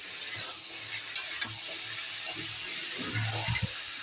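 Turmeric and spices fry in a pan while being stirred, giving a steady soft sizzle broken by scraping spoon strokes near the end, with no talking.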